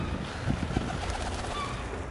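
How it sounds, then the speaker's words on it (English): Pigeons coo in low, soft murmurs over a steady background rumble outdoors, the calls repeating at close range. "Filthy pigeon, dirty pigeon."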